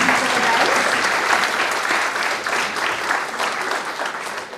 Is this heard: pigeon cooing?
no